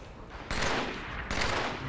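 Rapid automatic gunfire in Halo 3 comes in two sustained loud bursts separated by a brief gap, with a quieter lead-in before the first burst.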